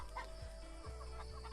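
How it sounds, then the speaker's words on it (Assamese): A small flock of Rhode Island Red layer hens clucks softly and continuously, low throaty calls overlapping close by in a quiet poultry shed. "নিজেই মাত্ৰ 100 লেয়াৰ মুৰ্গী পুহি চাইছোঁ"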